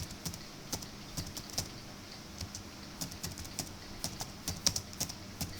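Keys tapped on a computer keyboard while a file name is typed into Microsoft Word 2010, a steady run of quick, close clicks with no talking.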